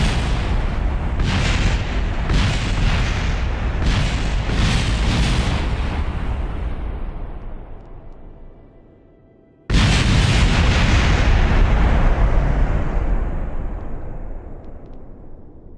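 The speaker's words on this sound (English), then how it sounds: "We basically just sit here and slide on the ground for a bit before it destroys itself." A Kerbal Space Program lander crashes and blows up in loud rumbling explosions, a series of booming bursts fading out, then a sudden second loud blast that slowly decays.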